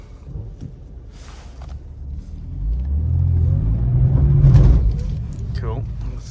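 A 2019 BMW M4 engine rumbles low and close while reversing, swelling into a steady louder drone midway and easing off slightly, with a voice briefly audible over it.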